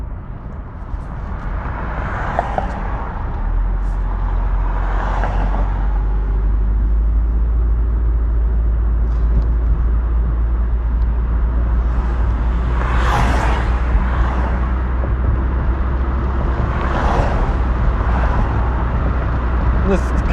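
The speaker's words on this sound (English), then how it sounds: "This car just doesn't like shifting at low RPMs" A Toyota Corolla driving with a steady low engine and road drone that holds even and loud throughout, while a muffled voice sounds briefly now and then over it.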